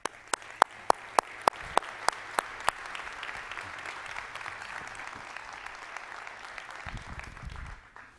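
A church congregation applauds as a pastor is welcomed to the front, with a few sharp, loud claps at the start that swell into sustained, dense clapping from the whole room and fade out near the end.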